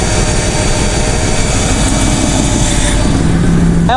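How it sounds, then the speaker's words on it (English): A car engine runs steadily with a low, constant hum on a test drive after a power steering pump replacement, loud and close with no break. "Now I'm going to test drive it"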